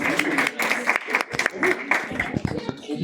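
Audience applause at a live French-language stand-up comedy show, a scattered burst of clapping mixed with a voice talking over it throughout.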